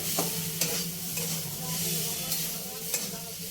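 Semolina for spicy jhal suji stirred in a pan as water goes in bit by bit, a constant sizzling hiss with regular scraping strokes of the spoon against the pan.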